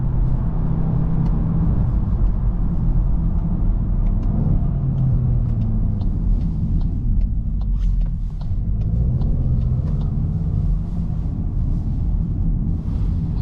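A 2024 Volkswagen Golf GTI with front-wheel drive rolls along a damp road, its engine a steady low rumble with gentle rises and falls in pitch under constant road and tire noise, heard from inside the cabin.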